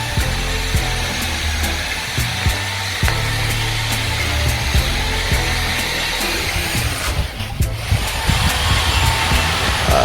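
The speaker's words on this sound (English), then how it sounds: "Let me see what this guy is drilling in there." A power drill runs steadily at a building site in Ghana where recessed lights, tiles and an electric fence are being installed, a continuous whirring drone lasting throughout with faint background noise.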